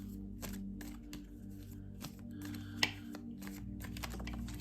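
Cards handled during a card reading: quiet, close flicks and soft papery clicks in quick irregular bursts, with one sharper snap partway through and no talking.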